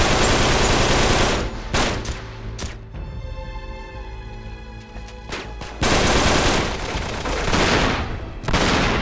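Bursts of rapid automatic gunfire from a gun in Uncharted 3 come in loud, close volleys, separated by a quieter stretch of scattered rattling in the middle.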